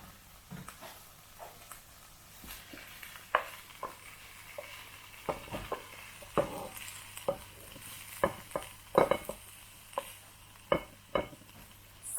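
Cajun dirty rice being dished up from a pan, with a spoon scraping and tapping in a run of soft, irregular clinks and stirring scrapes over a faint sizzle, close and fairly quiet.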